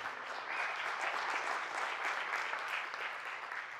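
Steady applause from a crowd at a weekend church service, sustained clapping at an even level for several seconds with no talking.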